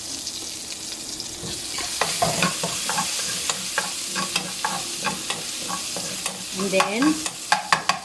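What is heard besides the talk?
frying fresh garlic in pan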